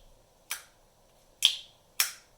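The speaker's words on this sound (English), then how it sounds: "I'm sure you can hear that Eotech has a very positive click" Eotech G33 magnifier snapping into position, three sharp, crisp clicks spaced about a second apart, close and clean in a quiet room.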